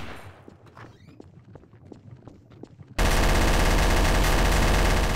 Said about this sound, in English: Annie, she keeps shooting at me.